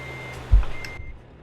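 Reversing beeps from a truck backing up in Euro Truck Simulator 2, a few short electronic tones over a low engine hum, ending abruptly.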